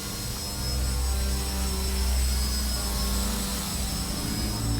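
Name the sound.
model airplane engine during hover practice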